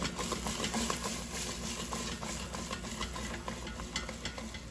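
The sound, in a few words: shaking yellow squash in the air fryer basket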